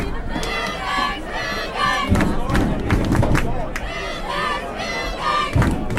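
High school football fans cheer and chant in rhythmic group shouts during an Edina Hornets versus Centennial Cougars game in overtime, a loud, sustained crowd roar with repeated surges and stomping thuds.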